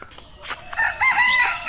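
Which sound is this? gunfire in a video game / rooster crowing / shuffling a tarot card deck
rooster crowing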